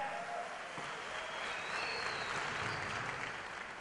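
Audience applause at a Rotary Youth Exchange presentation, a fairly distant, steady bed of clapping from a large crowd that holds evenly for the full duration.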